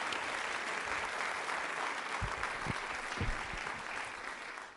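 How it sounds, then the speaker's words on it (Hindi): An audience at a college quiz show event gives steady applause in honour of a Doordarshan director, a dense continuous patter of many hands, moderately distant, with a few low thumps partway through. "तालियां बजाइए जोरदार उनके सम्मान"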